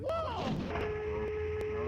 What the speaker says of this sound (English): we actually managed to blast off in the cannon and make it somewhere